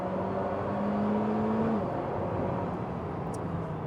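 An Alpine A110 sports car driving on the road, its engine tone holding steady and then rising and falling under a broad whir of tyre and wind noise, heard from inside or close by without talk.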